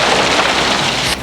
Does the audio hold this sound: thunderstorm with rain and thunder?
yes